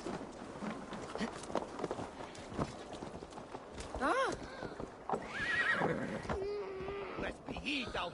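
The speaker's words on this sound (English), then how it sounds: "I, the great summoner Asta, call to you, my noble steed skin Faxi" A summoned horse neighs and whinnies with clip-clopping hooves in the video game Assassin's Creed Valhalla, heard over game music and ambience in short bursts.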